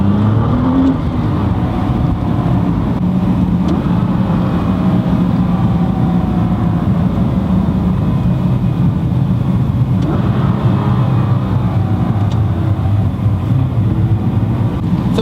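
Heard from inside the cabin, a 2014 Nissan GT-R accelerates hard on a canyon road, its engine a loud, sustained roar with road and wind noise for fifteen seconds and no talking.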